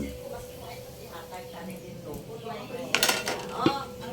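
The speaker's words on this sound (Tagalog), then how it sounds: "takpan natin ulit para lumambot siya" A metal lid clatters back onto a pot of pork nilaga with sayote, a couple of sharp clinks near the end after a stretch of low stove hiss.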